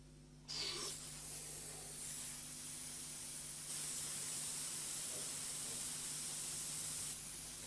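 A flame photometer nebulizer sprays sample solution into a mist, giving a sudden onset of steady hissing spray that grows slightly louder partway through and holds constant over a low mechanical hum.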